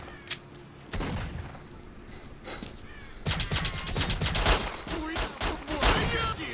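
Gunfire from the video game Stalker 2: a quiet stretch, then sustained bursts of rapid shots that build and grow louder and denser, with player talk briefly heard.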